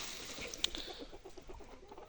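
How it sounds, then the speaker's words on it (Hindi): Kadaknath hens roam a farm, giving soft, scattered clucks close by against a steady hiss of outdoor background noise. "तो अभी हमारी मुर्गी ये घूम रही हैं।"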